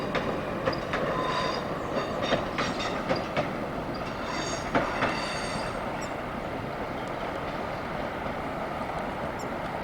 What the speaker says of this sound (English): And got a 170 turbo star coming out.